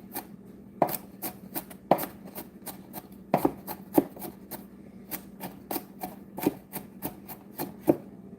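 Garlic minced with a knife on a cutting board, quick irregular chopping taps in bursts of several strokes, close and crisp, with no talking.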